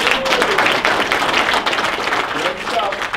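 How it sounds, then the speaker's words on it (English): Audience applause breaks out at a Super Saturday gathering, a steady wash of clapping sustained for about three seconds with chatter and voices mixed in. "Give her a round of applause."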